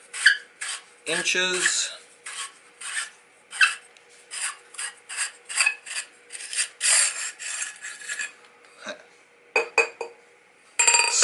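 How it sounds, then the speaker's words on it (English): A Gemtech Mist suppressor, slightly dirty from shooting, is unscrewed from a 10/22 bolt-action rifle, giving close, repeated metallic rasps and scrapes in short bursts, with a brief spoken word partway through. "This is the Gemtech Mist, and I'm gonna unscrew it."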